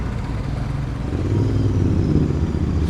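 A Royal Enfield 865cc Interceptor motorcycle on the road with its engine running, a steady low rumble and road noise throughout that builds slightly as the ride gets underway.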